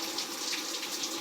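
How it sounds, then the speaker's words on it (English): Hot shower water runs steadily over a head of curly hair, a dense continuous hiss close by with no talking. "Every part of my hair wet with hot water."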